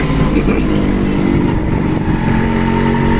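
A jeep engine drones loud and steady on a safari ride in Yercaud, a continuous low rumble with slight revving throughout.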